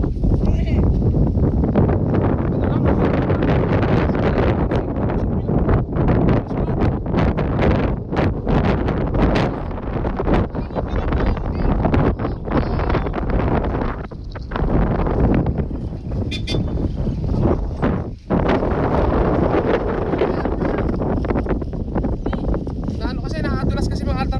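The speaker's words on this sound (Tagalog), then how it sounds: "Ang lakas ng hangin." Strong wind buffets the microphone continuously during kite flying, a loud roaring rumble that never lets up, with gusts rising and falling throughout.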